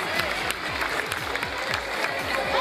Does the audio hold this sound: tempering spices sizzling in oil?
no